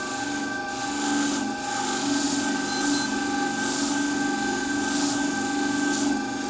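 A steady, even grinding rasp of Japanese scissors being sharpened on a 2000 grit disc of a Sungold hybrid sharpening machine, with a constant motor hum and light rhythmic pulses of contact throughout.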